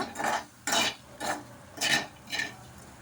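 Fried dried prawns are tipped and stirred into a simmering curry with sorrel leaves in a pan, heard as five short, close scraping and rustling bursts separated by brief quiet gaps.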